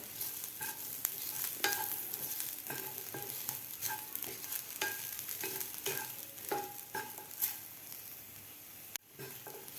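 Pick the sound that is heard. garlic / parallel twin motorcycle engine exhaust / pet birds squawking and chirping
garlic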